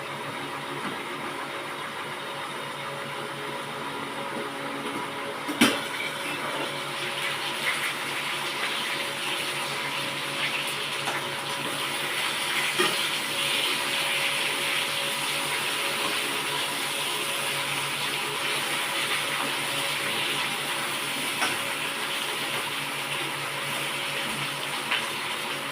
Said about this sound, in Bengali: মাছের মাথাটা ভাজতে একটু টাইম লাগবে